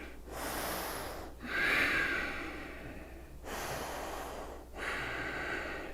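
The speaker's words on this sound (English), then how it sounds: "Nice deep breaths." Slow, deep breaths during a yoga session, each long inhale and exhale drawn audibly through the nose, close and unhurried, with short pauses between.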